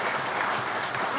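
An audience at a chartering and induction ceremony for an Eagles Club chapter in General Santos claps steadily, a dense, even roar of applause that holds at the same loudness throughout.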